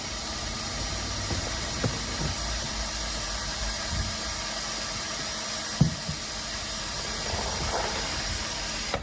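A steady hissing hum of a vacuum pump on a pipe-lining liner packer runs throughout, with a few faint knocks and clicks over the constant noise.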